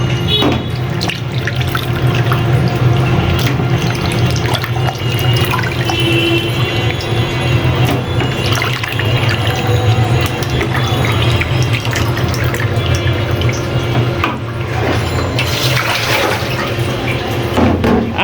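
Water splashing and dripping as chicken pieces soaked in vinegar, lemon and salt water are lifted out and drained over a bowl, close, continuous and fairly loud, with occasional clatter.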